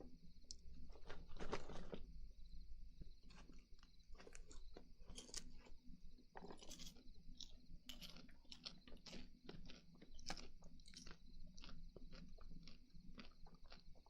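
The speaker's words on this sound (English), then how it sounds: "Crunchy popcorn? Yeah, I mean all popcorn's crunchy." Crunchy popcorn is chewed very close to a binaural microphone, making quiet, irregular crisp crunches and bites with brief pauses between mouthfuls.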